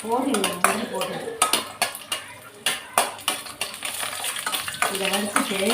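Cashew nuts frying in ghee in a pan, with metal spoon stirring and scraping, clattering cookware and a soft sizzle underneath, close up and with no talk.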